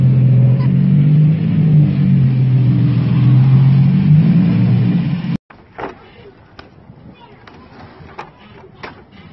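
A car engine called the Z revs with a loud, sustained, throaty drone while being backed into a storage space, then cuts off abruptly, leaving scattered clanks and movement noises. People talk nearby.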